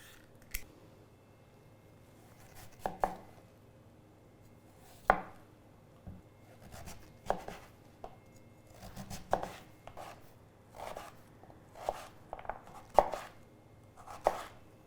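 A knife dices turnip or similar root vegetable on a cutting board in a kids' cooking class, giving irregular crisp chops and taps, some in quick bursts, close and fairly quiet, with no talking.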